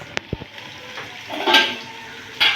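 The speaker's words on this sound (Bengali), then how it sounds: "এবার এই জলটা দিয়ে দিচ্ছি।" Boiled water poured into mutton curry in a kadai, a short splashing pour with clinks of a metal pot, close and fairly loud, ending in a hissing rush.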